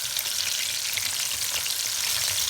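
Chicken lollipops sizzle in hot oil with a steady, dense crackle that holds for the whole stretch, ending in one sharper pop.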